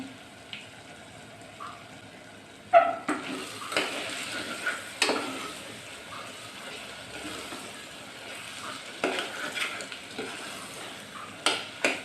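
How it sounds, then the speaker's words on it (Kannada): Hyacinth bean dal frying in about three spoons of ghee, a steady sizzle with occasional stirring scrapes and clinks of a spoon against the pan, close and moderately loud with no talk. "ಬೇಳೆ ಚೆನ್ನಾಗಿ ಫ್ರೈ ಮಾಡ್ಕೊಬೇಕು"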